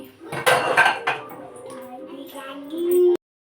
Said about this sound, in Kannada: ಸೊ ಪಟಾಪಟ್ ಪಾತ್ರೆಗಳೆಲ್ಲ ಜೋಡಿಸ್ಕೊಳ್ಳೋಣ ಅಂತೇಳಿ ಜೋಡಿಸ್ಕೊಳ್ತಾ ಇದ್ದೀನಿ.